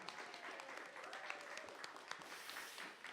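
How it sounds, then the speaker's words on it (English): A small audience at a Burns Night event at a community radio station applauds storytellers, soft steady clapping heard faintly from across a room, with no voices over it. "So another round of applause, please, for the storytellers of the Moon and the Bog."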